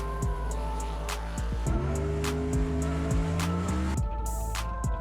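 A car being driven, its engine note climbing and settling through gear changes, with rhythmic clicks or thumps recurring over a steady low drone, heard close inside the cabin.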